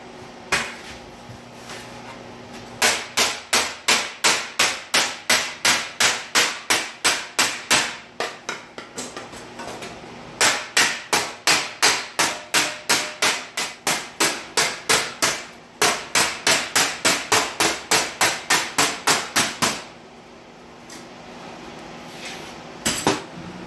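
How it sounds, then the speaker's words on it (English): Hammer and dolly shape a sheet metal wheel tub: rapid bursts of sharp metallic blows, close and loud, each run of steady strikes separated by short pauses. "I'm going to dolly this here right along here, get a nice tight fit here"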